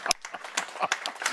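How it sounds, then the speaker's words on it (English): A handful of people clap in a small corporate gathering, sparse and uneven claps over about a second, fairly close and moderately loud. "Give her an applause."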